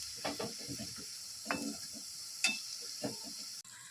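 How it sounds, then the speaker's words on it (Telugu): Boondi batter sizzles in hot oil, a steady quiet hiss punctuated by soft bubbling pops as small amounts are fried. A person speaks over the frying at intervals. "మరీ ఎక్కువ వేసుకోకూడదు చూసుకొని కొంచెం కొంచెంగానే ఫ్రై చేసుకోవాలి"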